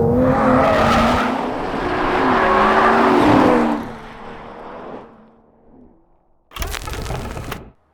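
A loud high-revving engine screams through rising and falling revs, fades away, then a brief sharp burst of noise cuts in near the end.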